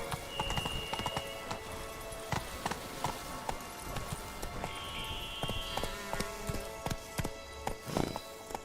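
In The Witcher 3 on PS4, a horse gallops with a rapid, rhythmic clip-clop of hooves, close and steady throughout. Faint tonal game sounds sit behind it.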